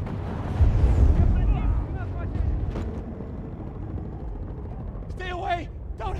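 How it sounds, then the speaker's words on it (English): An explosion in the video game Battlefield gives a heavy, rumbling boom that swells loudly and then settles into a lingering low roar of battle noise, with a voice speaking over it. "The explosion."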